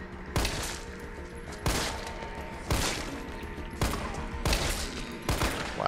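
Resident Evil 3 Remake handgun firing about seven loud, sharp single shots at uneven intervals, each with a short echoing tail, close by and with no voices over them.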